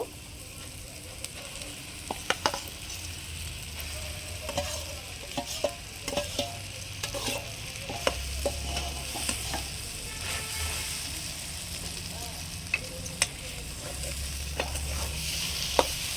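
Boiled potato being stirred into fried masala in a pan for egg chops, with a long stretch of scraping spatula strokes and soft sizzling, occasional sharp clinks against the metal, and no talking.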